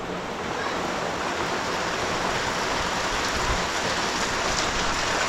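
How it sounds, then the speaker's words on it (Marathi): A downpour of heavy rain at a village house, steady broadband rushing and pattering that stays constant and full for several seconds, with no talking. "बऱ्यापैकी मोठा पाऊस आहे"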